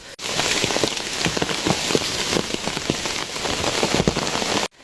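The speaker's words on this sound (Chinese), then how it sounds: "现在下得小多了，漫步雨中" Steady rain falls on a steep mountain forest path in the Qinling range, a dense continuous patter with distinct drops striking close by, loud and unbroken for nearly the whole stretch with no voices.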